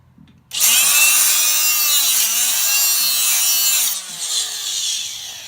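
A slot being cut into the crank of a turbocharged LSX 5.3 engine, a loud continuous high-pitched grinding whine that starts abruptly, holds steady for several seconds, then eases into lighter, uneven grinding.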